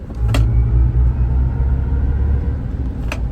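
A Chevy Silverado EV Work Truck, without rear wheel steer, makes a U-turn in a tight parking lot, giving a steady low road rumble and tire noise from inside the cab. Two brief clicks sit on top of the rumble.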